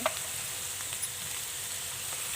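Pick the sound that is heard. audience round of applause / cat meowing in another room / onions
onions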